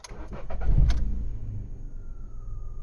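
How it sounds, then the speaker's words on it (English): A 2014 Volkswagen Up with a newly programmed spare key cranks and fires up, a short burst of starter noise settling into a steady idle that stays running, close by and with no talk. "go ahead and try and start the vehicle"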